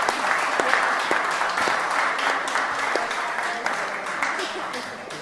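A crowd applauds steadily, dense clapping holding an even level throughout, with a voice faintly audible beneath it.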